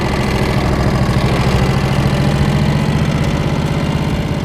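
A 1958 Harley Davidson Duo Glide motorcycle engine runs with a loud, steady low throb and a pulsing rumble, close and continuous throughout.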